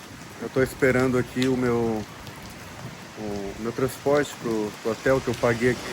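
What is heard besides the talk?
rain falling in Turkey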